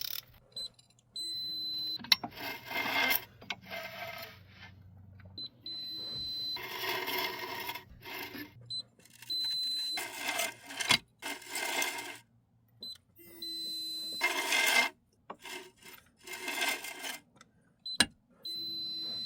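A torque wrench tightens CV axle bolts on a 1999–2006 Chevy Silverado in a cross pattern, producing short bursts of close mechanical ratcheting and clicking separated by quiet pauses, with no talking.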